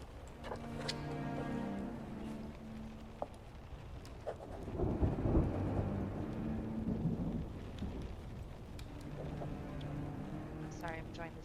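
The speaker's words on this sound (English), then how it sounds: "I'm enjoying the sound of thunder right now" Thunder rolls low and loud through steady rain in the middle, while voices talk over a tabletop fantasy role-play session and ringing tones hover around it.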